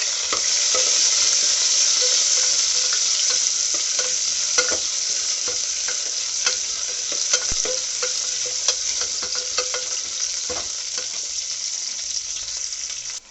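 Steady sizzling of fennel seeds and chopped shallots frying in a pan for Chettinad mutton chukka, with occasional scraping and stirring clicks over the constant hiss, close up.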